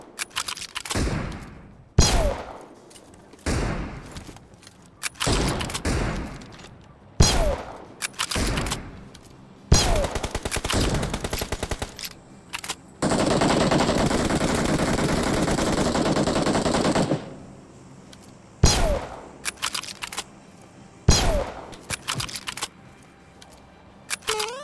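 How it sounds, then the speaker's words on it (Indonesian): Gunfire in the battle-royale game PUBG Mobile: a string of sharp, loud single shots spaced apart, plus one sustained burst of rapid automatic fire in the middle, close and dominant with no talk over it. "Ada yang nembak sniper tadi baru ke arah kita."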